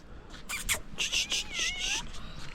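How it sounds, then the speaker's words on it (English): A cat meows several times close by in short, high cries, with a person's voice talking softly around it outdoors in a village on Ibiza. "You're a nice clean cat, aren't you?"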